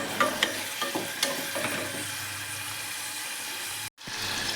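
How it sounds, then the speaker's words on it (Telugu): Onions and biryani spices fry in hot oil inside a pressure cooker, giving a close crackling sizzle with a few sharp stirring knocks early on, a brief dropout near the end, then the sizzle resumes. "1 కప్పు ఆనియన్స్ కూడా వేసి బాగా వేయించాలి ద్వారగా వచ్చేలాగా"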